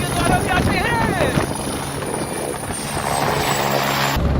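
A helicopter at the Kedarnath helipad roars steadily and loudly throughout, its rotor and engine noise blended with wind buffeting and voices in the background.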